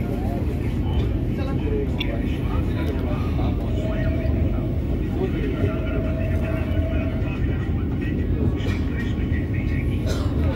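Vande Bharat Express train pulling out of Howrah station, a steady low rumble and hum heard from inside the carriage, with a faint tonal whine and people talking over it.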